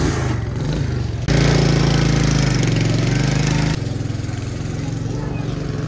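A motorbike engine drones loudly and steadily throughout a ride on a trip through Pakistan toward Kalam, with a brief dip and surge in the engine note partway through.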